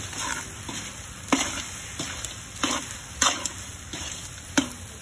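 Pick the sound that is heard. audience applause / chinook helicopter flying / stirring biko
stirring biko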